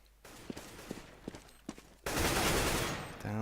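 Gunfire in CS:GO on the Cache map at a Dreamhack Cluj Major qualifier match, a few scattered single shots followed by a sustained loud burst of rapid fire.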